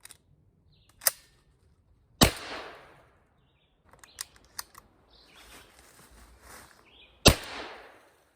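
Beretta A300 Outlander semi-automatic shotgun firing birdshot, three sharp loud reports spaced apart with mechanical clicks and handling noise between shots, no speech.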